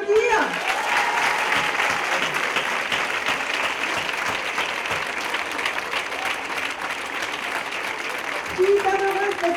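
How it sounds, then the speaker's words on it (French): A crowd applauds runners at a women's race in Le Mans, sustained clapping and cheering with a voice speaking over it at the start and end. "on peut les applaudir"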